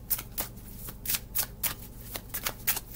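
A deck of tarot cards being shuffled by hand, a rapid run of close, crisp riffling bursts repeating steadily with no talking.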